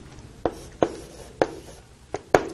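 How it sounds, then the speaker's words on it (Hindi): Marker strokes on a classroom board, five sharp taps and scratches spaced irregularly over a couple of seconds, close and fairly clear against a quiet room. "तो मैं इसको ऐसे शॉर्ट फॉर्म में लिख सकती हूं"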